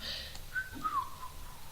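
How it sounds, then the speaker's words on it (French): A person whistles innocently in a short, wavering tune of a few thin notes, quiet and close, with no talking. "je suis très peu douée pour le sifflotement innocent"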